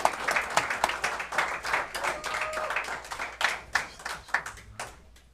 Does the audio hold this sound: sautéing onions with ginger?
no